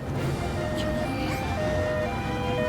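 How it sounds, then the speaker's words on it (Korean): A cartoon ambulance siren from the Pororo children's series wails in continuous tone over busy background sound, with a child-friendly emergency run to an amusement park. "구급차가 놀이공원으로 출동했어요."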